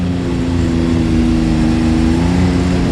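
Can-Am Maverick X3 X DS Turbo RR side-by-side engine revving hard and steady, loud and close, a sustained turbo drone held high for the full stretch.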